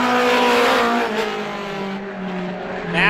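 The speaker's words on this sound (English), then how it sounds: "41 trying to take that lead away, but Renfrew has not slipped up just yet." Roadrunner-class race cars lap a short oval speedway, engines whining and revving in a close, loud pass with rising and falling pitch.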